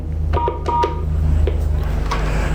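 A Smartcaller HP5 blue phone dials out an alarm call, sending a quick run of short, clear touch-tone beeps over a low steady electrical hum before the line goes quieter.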